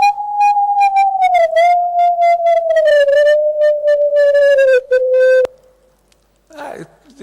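Steady sustained tone from a vibrating carbon nanotube, stepping slightly lower in pitch as single electrons are added, carrying many bright overtones, then cutting off abruptly before a short quiet patch with a brief faint noise.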